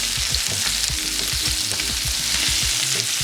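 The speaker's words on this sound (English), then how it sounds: "So let's throw in the coriander Yeah, stems now." Coriander stems fry in a hot pan, a loud, dense, continuous sizzle up close with rhythmic stirring knocks and scrapes running underneath.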